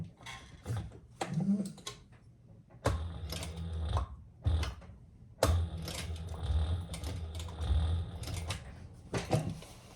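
A hand-cranked sewing machine pushes stitches through thick fabric for a clutch purse, giving several short bursts of clattering, ratcheting mechanism separated by brief pauses, close and fairly loud.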